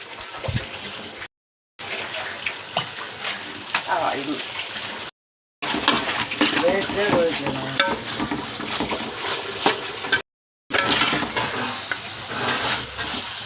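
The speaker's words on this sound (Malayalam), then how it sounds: "ഇളക്കി കൊടുക്കാം. പുതിനയില ചേർത്ത് കൊടുക്കാം." A spoon stirs sizzling chicken curry gravy with mint leaves in a pan, with steady frying hiss and wet scraping up close, in several short bursts separated by brief silences.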